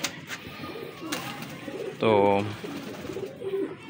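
A pigeon gives one clear, throaty coo in sunny outdoor surroundings, close and distinct, with someone speaking Hindi-Urdu softly before and around it.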